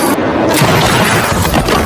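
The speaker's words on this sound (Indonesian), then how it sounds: "Pasca ledakan granat yang menghempaskan tubuh Suang, kini dia kembali bangkit" A loud, dense boom from a grenade explosion in an action film, with a rumbling burst that fills the brief moment and stays heavy throughout.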